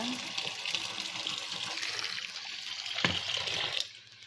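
Running tap water gushing over vinegar-soaked fish as it is washed, a steady close splashing stream with a brief clatter near the end before the water cuts off.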